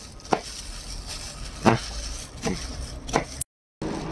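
A kitchen knife chops ingredients for a fried pork patty on a board: four sharp, spaced strikes up close over light room noise, then a brief dropout.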